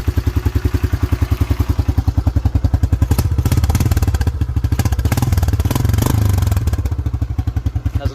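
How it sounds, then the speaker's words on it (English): A 1987 Yamaha Moto 4 YFM-350ER ATV with a 350 engine idles after a cold start, its single-cylinder exhaust thumping in a steady, even rhythm. It is loud and close, with a mild swell midway and no other sounds. "Has a nice little exhaust growl back there."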